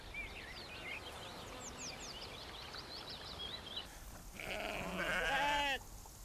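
Bohemian Forest sheep bleating in hilly wild country, one wavering animal cry close by near the end after a stretch of scattered birdsong, set against a quiet outdoor hush.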